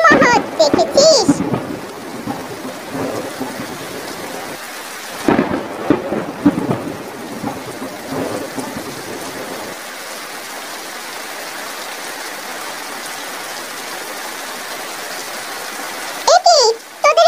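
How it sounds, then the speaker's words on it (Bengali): Heavy rain pours down while thunder rumbles and cracks in several loud bursts, the first early on and another near the end, over a constant wet hiss; no one speaks. "বৃষ্টির পানিতে এভাবে ভিজছিস"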